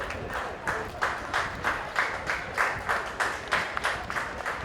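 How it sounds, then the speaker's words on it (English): Rhythmic applause at a polo club ceremony, with the crowd clapping in loose unison in a pulsing beat, fairly close and steady throughout. "Another round of applause they come with."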